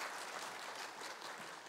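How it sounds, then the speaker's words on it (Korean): A church congregation at a Sunday morning service applauds to welcome a baby boy attending worship for the first time. The clapping is a soft, even wash that sounds fairly distant, with no talking over it. "우리 환영의 박수 한번 할까요?"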